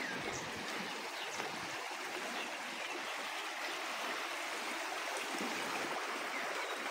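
Water rushes steadily through a drain outlet on a nullah among orchards in Abbottabad, a continuous broadband gush that stays close and even throughout, with no voices.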